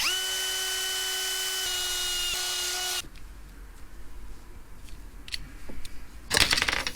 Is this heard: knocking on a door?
no